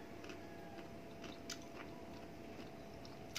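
Crunchy half-cooked string beans dipped in shrimp paste are chewed near the microphone, with soft crisp bites and squishy chewing noises that are fairly quiet and have no talking over them.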